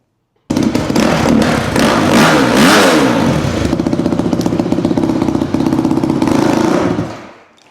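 A Yamaha YZ 250F four-stroke dirt bike, recently rebuilt and with a clutch that will not disengage, fires up abruptly and runs loud and close, rising through a couple of quick revs before settling into a rapid, crackling idle that then cuts off.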